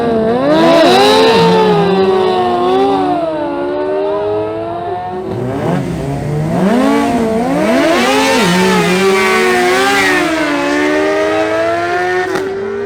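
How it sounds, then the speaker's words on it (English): Suzuki GSX-R600 sport bikes launching in a drag race, high-pitched inline-four engines revving hard through rapid rising and falling gear changes, loud and close for the whole stretch. "Next up, we have Jose Sarmiento versus Fabian Fajardo, both aboard Suzuki GSX-R600 bikes."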